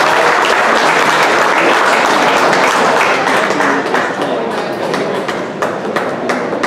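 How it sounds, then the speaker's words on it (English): A loud, dense round of applause at an auctioneer championship winners announcement greets the top five auctioneers, with crowd clapping sustained throughout and easing slightly toward the end. "give a quick round of applause"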